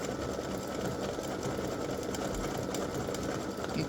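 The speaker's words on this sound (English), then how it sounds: "when it starts stitching off the t-shirt, don't freak out." An embroidery machine stitches an appliqué design onto a t-shirt with a fast, steady mechanical whir and needle clatter running continuously at moderate level.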